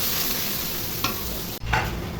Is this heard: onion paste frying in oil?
yes